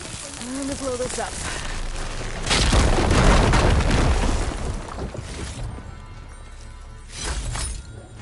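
A loud, heavy blast with shattering debris rolls out as a machine rig is blown up in the video game Horizon Forbidden West, swelling for a couple of seconds over a low rumble, then fading before a second smaller burst.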